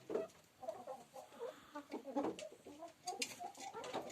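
A small room holds ten to fifteen hens and roosters, which cluck and call in scattered, overlapping bursts at close range, moderately loud with brief pauses.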